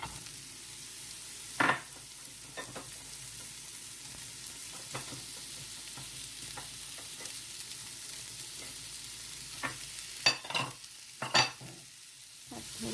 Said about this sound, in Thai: ผัดหอมใหญ่ให้หอมค่ะ